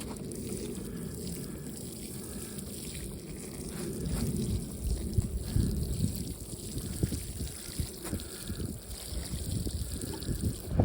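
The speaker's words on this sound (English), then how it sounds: "So they've been planted, firmed up. Now I just gotta water them." Water pours and splashes onto newly transplanted, firmed-in garden seedlings. The close, continuous trickle grows louder and more spattery partway through.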